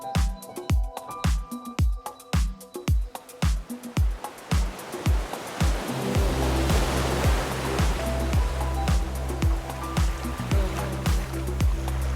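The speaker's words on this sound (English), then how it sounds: "the sea's really rough" Rough sea surf breaking against the shore at Great Yarmouth on a rainy April day, a loud continuous wash of churning water that builds and holds steady after a series of sharp knocking impacts near the start.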